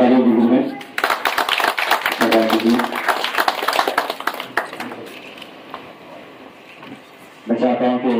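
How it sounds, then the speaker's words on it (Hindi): A burst of loud, dense clapping from a crowd at a human rights organization event rolls on for several seconds, then tapers off, with a voice speaking before and after. "ज़ोरदार तालियों की गूंज में"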